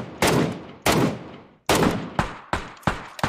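Gunfire in a video game, a series of sharp, loud single shots spaced irregularly with reverberant tails, about six reports close together, no talk.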